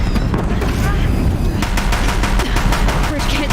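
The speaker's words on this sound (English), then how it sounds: "If the Deathbringers keep firing, this bridge will go" Rapid, loud automatic gunfire from Deathbringers in a video game, a dense continuous volley of shots that turns into a sharper staccato rattle partway through, with battle noise filling the background.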